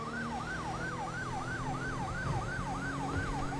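A wailing emergency siren in the GTA RP video game sweeps up and down in a fast, regular yelp pattern, loud and continuous with a low engine hum beneath.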